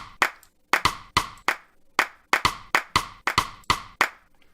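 A looping percussive beat from FL Studio of sharp, clap-like hits in a steady repeating pattern, loud and close, with no voices.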